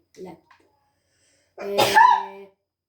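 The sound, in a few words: woman sneezing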